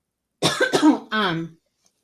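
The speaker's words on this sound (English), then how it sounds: "Excuse me, I'm going to cough." Two quick, harsh coughs close to the microphone, followed by a longer throaty one, then silence.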